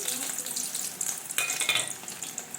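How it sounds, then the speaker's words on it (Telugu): Sliced onion frying in hot oil, a steady close sizzle and crackle that swells briefly as the pieces hit the pan, with no voices. "ఇప్పుడు ఆయిల్ హీట్ అయిన తర్వాత ఇప్పుడు ఉల్లిపాయని 1 లేదా 2 కోసుకొని ఇలా వేసుకోవాలి"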